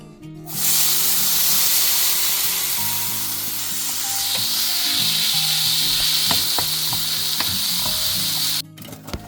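Sausages sizzle and spit in a frying pan after being steamed and air-fried, a loud, steady crackling hiss with occasional stirring knocks, close up and uninterrupted.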